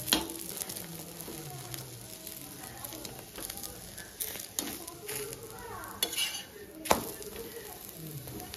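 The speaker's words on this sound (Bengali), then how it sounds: "তো আমার রুটি ভাজা হয়ে গেল" An egg-stuffed paratha frying in a pan gives a steady, close sizzle with scraping stir sounds and a few sharp clanks of utensils against the pan, with no talk.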